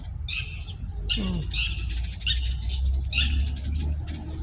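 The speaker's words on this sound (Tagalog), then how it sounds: "Yung ingay ng ibon." Birds squawk and chirp in several sharp bursts in a garden in Dubai, fairly close, over a steady low background hum.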